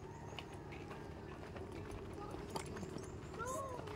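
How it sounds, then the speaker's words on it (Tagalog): Hooves clip-clop in an uneven patter, fairly faint, with a bird calling briefly near the end over quiet outdoor background. "andyan na yung kabayo"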